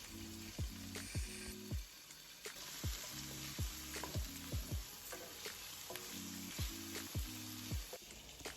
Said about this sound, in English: So I'm just sauteing this for at least a minute.